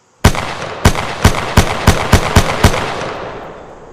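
Ten gunshots fired into the ground, sharp loud reports in a steady rhythm about a third of a second apart, each ringing briefly before the next, with a lingering echo fading after the last round.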